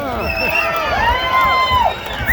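A large crowd roars and cheers continuously, with whistles and shouting voices rising over a dense wash of noise.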